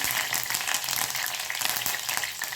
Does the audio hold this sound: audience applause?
no